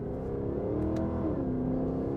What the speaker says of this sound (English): So much easier to get this kind of sound when you're using a V8 engine versus a twin-turbo 6.